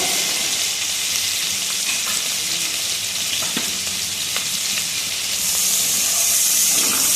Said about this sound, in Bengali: তো চিংড়ি মাছটা ভালোভাবে ভেজে নিয়েছি